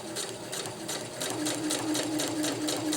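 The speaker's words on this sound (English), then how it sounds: "I really like using this plastic foot when I am sewing slippery fabrics." A sewing machine with a plastic foot stitches slippery tarp fabric for a winter tarp ridgeline, running in a steady, continuous whir with a regular pulsing rhythm, close and alone.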